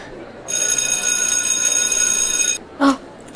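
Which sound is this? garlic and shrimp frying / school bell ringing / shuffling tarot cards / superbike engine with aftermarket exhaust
school bell ringing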